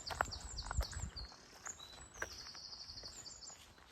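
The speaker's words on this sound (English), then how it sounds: "Can you hear the birds singing?" Birds chirp and sing in short high-pitched phrases outdoors in the Malvern Hills in spring, fairly faint, with a few soft thumps and rustles near the start.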